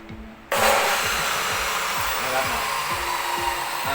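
A direct-drive fiber cut-off saw motor starts abruptly with a loud, steady high-pitched whine that keeps running without letting up.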